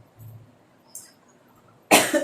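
A woman coughs once in a sharp, loud burst near the end, after a brief quiet stretch with only faint low background noise.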